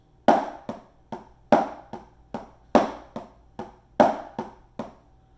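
Single drum strokes in groups of three, each group opening on a loud accented hit followed by two softer taps, repeating at a steady, even pace, close and dry with no talking.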